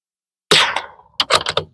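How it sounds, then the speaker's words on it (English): .22 rimfire rifle shots fired from rear support, two sharp cracks about 0.7 seconds apart, each loud and close with a short decay, with silence before the first. "We got 10 rounds loaded up on the 22. We are gonna shoot with rear support"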